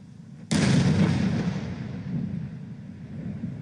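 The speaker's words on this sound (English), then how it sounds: "There's the missile right there. Watch that missile coming." A missile strike explosion in Israel–Iran war footage bursts in suddenly at full loudness, a broad booming blast that rolls and rumbles on for several seconds without fading much, heard alone with no talk.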